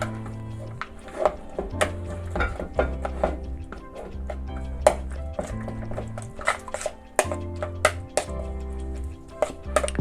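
Eggs and omelette ingredients being mixed in a bowl, giving a run of quick, irregular clicking and tapping strokes, close and fairly loud, with a low musical tone underneath throughout.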